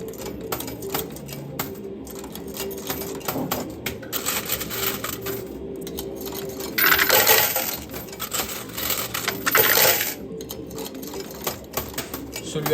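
A coin pusher arcade machine playing with real money: coins clatter and drop in repeated metallic bursts over a steady mechanical hum, with two louder rushes of coins partway through.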